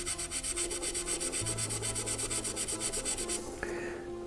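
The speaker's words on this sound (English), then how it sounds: "work in small sections at a time in order to polish the plastic and not spread this steel wool pad residue too far" A steel wool pad rubs back and forth over the plastic of a Revell B-25J model kit, giving a fast, even scratchy rasp of close strokes that holds steady for several seconds, with no talk.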